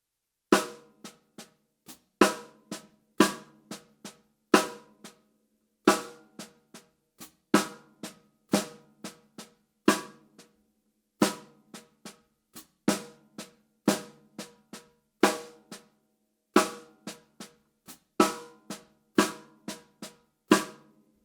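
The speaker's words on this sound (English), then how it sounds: "now let's throw in the snare with the hits and the ghost notes" A funk drum groove in the style of a classic funk record, with crisp snare backbeats and quiet ghost-note taps between them, repeating in a steady, moderately slow pattern with no voices.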